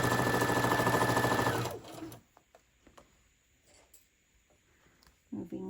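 A sewing machine stitches a lined tote bag in a steady, fast whirring run for under two seconds, then stops, leaving faint handling clicks and rustles before a brief voice.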